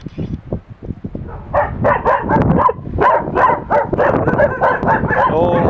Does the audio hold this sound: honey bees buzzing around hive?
no